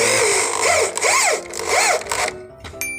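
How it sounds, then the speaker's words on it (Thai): A power drill drives screws through a plastic bird-guard sheet fitted under a house's eaves, with three rising-and-falling whirring pulses close by and a clatter at the end. "ติดตั้งตรงชายคาแล้วก็เอาน็อตสกูยิงเข้าไปนะครับ"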